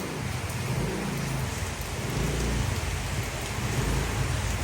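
Steady rain falls throughout, a dense, even wash of drops on surfaces with a low rumbling undertone, moderately loud and continuous with no voices.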